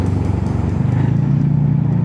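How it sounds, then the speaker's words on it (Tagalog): A Suzuki vehicle's exhaust gives a smooth, deep idle rumble with a bassy low tone, steady and close, with a slight rise in pitch toward the end. "Ganda ng tambutso."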